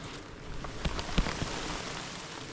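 Scattered raindrops patter down from shaken hazelnut tree branches in a Lithuanian wilderness, a soft steady hiss of drips with a few louder close splashes near the middle.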